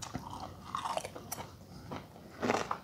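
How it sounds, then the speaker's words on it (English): Crunchy fried coconut shrimp being chewed close up, with several crisp, brittle crunches in quick succession and no talking. "I wish y'all could hear this crunch."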